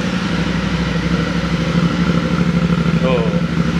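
Engine of a 2025 Yamaha Tenere 700 two-cylinder crossplane motorcycle running at a raised idle just after starting, a steady close throb with someone talking over it.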